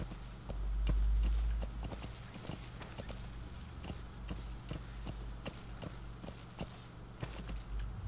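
Rhythmic hoofbeats of a galloping horse in Metal Gear Solid V: The Phantom Pain clatter steadily throughout, fairly soft, over a low rumbling background.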